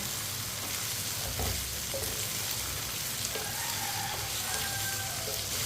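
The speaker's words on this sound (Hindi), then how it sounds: "इसे ऐसे ही चम्मच चलाते हुए फ्राई करना है।" Potatoes and okra sizzle steadily in hot oil while a spoon stirs them, giving a continuous crackling fry with occasional scraping and clinks, close and even throughout, no voices.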